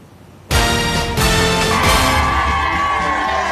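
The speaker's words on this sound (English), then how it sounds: "A crowd gathering outside Smith Temple Baptist Church Sunday afternoon, welcoming former President Bill Clinton" A crowd gathered outside Smith Temple Baptist Church on a Sunday afternoon bursts into loud, sustained cheering and whooping to welcome former President Bill Clinton, rising abruptly from quiet and holding steady with scattered shouts.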